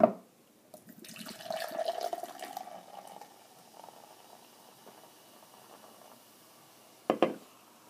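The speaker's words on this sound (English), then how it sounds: "Okay, I'm gonna pour it in this cup and see what it looks like." An AMP Energy Strawberry Limeade drink is poured into a cup, giving a soft liquid splash and trickle that peaks early, then fades to a thin stream, with a brief louder clatter near the end.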